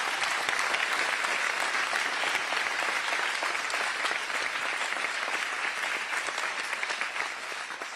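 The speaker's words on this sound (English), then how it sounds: "Please give them a big round of applause." A town hall crowd in Iowa applauds the law enforcement people in the room, a loud, dense, sustained burst of clapping that tapers slightly toward the end.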